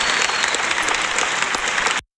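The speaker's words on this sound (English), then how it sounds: "Once again, applause to all the participants." Crowd applause for participants at the end of an online English lesson stream, loud, dense clapping that runs steadily for about two seconds before cutting off abruptly into silence.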